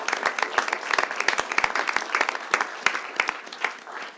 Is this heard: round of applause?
yes